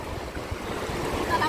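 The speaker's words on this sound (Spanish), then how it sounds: "Miren la inmensidad del mar." Large sea waves roll and break on an El Salvador beach, a brief, close, continuous wash of surf with no voices.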